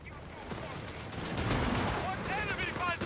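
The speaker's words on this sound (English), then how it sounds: "Incoming artillery strike." Artillery strike in the Company of Heroes 3 war game, a sustained roar of explosions and rumbling blasts across the whole stretch, with a voice talking over part of it.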